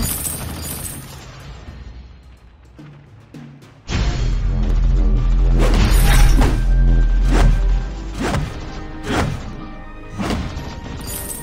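In Vainglory, a turret being destroyed sets off a sudden heavy crash, then a flurry of loud thuds, smashes and shattering hits that fades in bursts.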